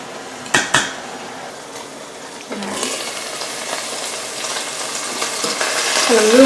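Thick pork chops fry in a pan, a bright sizzle that grows louder over the clip, with a couple of sharp utensil clanks at the start and a cherry sauce bubbling nearby.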